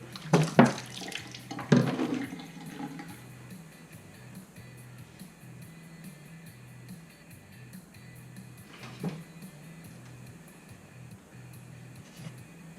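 Water runs from a tap into a container holding a turkey with a steady, soft rush after a few clunks and knocks at the start.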